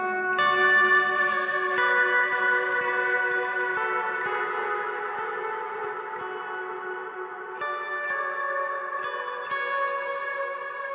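Clean electric guitar run through delay and plate reverb on a Quad Cortex modeler, sustained chords ringing with a wet, washy ambient tail and repeating echoes, steady and moderately loud with no talking.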